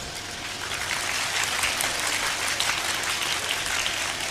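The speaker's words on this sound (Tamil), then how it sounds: "கைத்தட்டுகிறார்கள்" An audience at a talk on parenting claps steadily, a dense, continuous wash of applause held at an even level from start to finish, with no voices above it.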